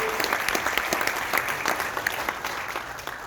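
Audience applause at a Gyeongnam Korean medicine doctors' general assembly, a steady wash of many hands clapping for a guest introduction, continuous and moderately loud throughout.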